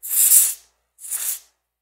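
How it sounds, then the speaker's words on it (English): DeoxIT contact cleaner sprayed into a dirty Apple III+ keyboard: two close, loud hissing aerosol bursts, the first about half a second long and the second slightly shorter, with no talk. "I will spray it in there."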